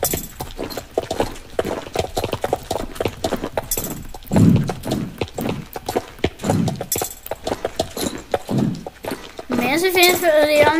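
Horse hooves clip-clop during a race in the Star Stable video game, a steady run of rhythmic thuds mixed with game sounds and heard under continuous talking.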